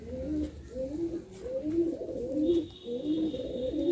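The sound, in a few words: Madrasi pigeons cooing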